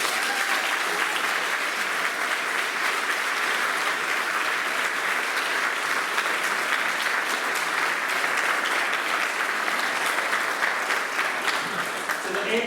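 Sustained audience applause fills a school prizegiving hall, a dense, steady wash of many hands clapping at even loudness throughout, with no gaps or speech.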